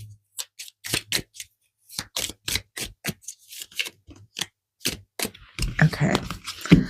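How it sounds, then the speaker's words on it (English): A deck of tarot cards is shuffled by hand, making a rapid series of crisp, close snaps and riffles that end in a denser flurry of card noise. "I'm going to go ahead and shuffle this side."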